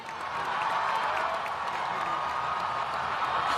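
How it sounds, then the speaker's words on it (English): A huge crowd outside Buckingham Palace awaiting the newlyweds, heard as a steady, distant roar of many voices with faint scattered cheers and clapping. "Outside Buckingham Palace, tension was building as the huge crowds waited for a glimpse of the newlyweds."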